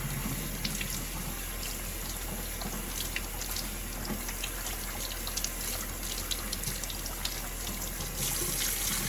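Water runs steadily from a tap, splashing and sloshing over 6 cups of rice in a bowl, with faint scattered clinks, close and continuous.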